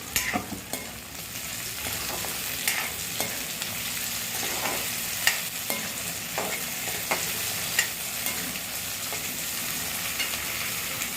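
Capsicum and green chili sizzle steadily in a pan while a spoon scrapes and stirs them in irregular taps and scrapes, close and moderately quiet.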